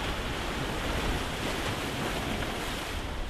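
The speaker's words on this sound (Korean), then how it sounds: "발밑에서 부서지는 파도 소리를 들으며" Surf breaks steadily against the sea cliffs of Marado island, a continuous loud broadband wash with no distinct pauses, roughened by some wind noise and no voices.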